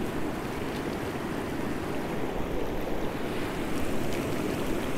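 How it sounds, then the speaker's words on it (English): The American River rushes along steadily, a broad, continuous wash of flowing water that stays close and fairly loud without any pause. "it's awesome just being here at the river right now"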